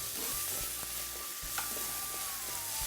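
Ginger and green chilies sizzling in a hot pan as they are stirred, a steady close frying hiss with occasional scraping clinks from the spoon.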